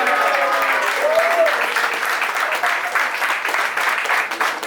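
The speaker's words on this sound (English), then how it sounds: "can we please have a huge round of applause for my brilliant mother" Party guests at a surprise 50th birthday celebration break into a loud, sustained round of clapping, dense and steady from start to finish. A brief tonal sound rises faintly beneath the applause near the beginning.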